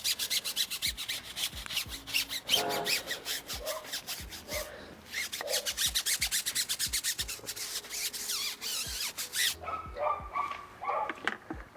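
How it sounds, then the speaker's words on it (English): A stiff tyre brush scrubs a car tyre in quick, repeated back-and-forth strokes, close and rasping in a busy rhythm, with a dog apparently barking now and then in the background. "So normally I will start off by scrubbing the tyre."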